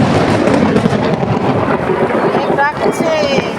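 Thunder rumbles through heavy rain falling outdoors where the yard has flooded like a pond, a loud broad roar sustained throughout with a faint tonal squeal near the end.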